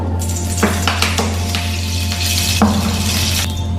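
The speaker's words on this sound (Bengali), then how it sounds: "এই কড়াইয়ে অয়েল দিয়ে দেবো।" Oil heats in a kadai wok over a low gas flame, with a steady soft sizzle and hiss and a few light clinks of utensils on the metal, heard up close.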